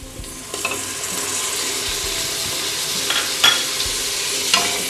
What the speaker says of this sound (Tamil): இப்போ தக்காளி நல்லா வதக்கணும்.